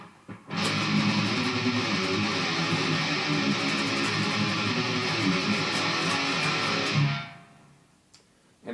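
Heavily distorted electric guitar plays a post-chorus riff, a dense, fast-picked wall of sound lasting about six seconds before cutting off, loud and close.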